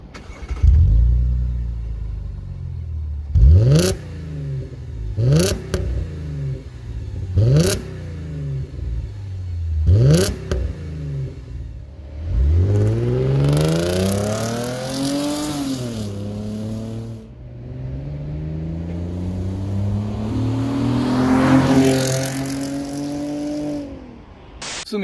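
A 2005 Audi A4 3.2 FSI quattro V6 with a modified exhaust revs hard in a series of sharp, loud blips, then in longer sweeping climbs and drops, close and without talk.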